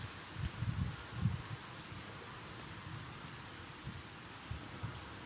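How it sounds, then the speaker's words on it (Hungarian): Wind picks up with a soft, steady rustle of leaves, rising in low gusts in the first seconds and again faintly near the end, quiet and continuous outdoors during rain. "Feltámad a szél."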